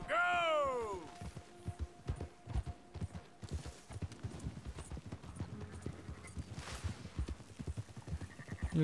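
Steady clip-clop of horse hooves trotting in Red Dead Redemption 2, opening with a loud whinny, the hoofbeats continuing rhythmically over game sounds.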